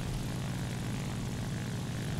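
A La-5FN propeller fighter in War Thunder, its piston engine droning in a steady, even roar that holds unchanged throughout.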